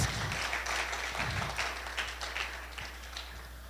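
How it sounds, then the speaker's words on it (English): A school audience at Charlotte Brookson Academy breaks into a big round of applause, with many hands clapping in a dense, steady wash that gradually thins toward the end. No one speaks over it. "applause."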